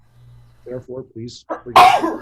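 A single sharp sneeze bursts out at the end, right after a man's spoken words.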